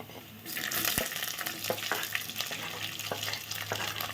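Shallots sizzle in a pan with ginger for a spicy sardine curry, giving a steady crackling fry punctuated by a few sharp taps of stirring, close and moderately loud.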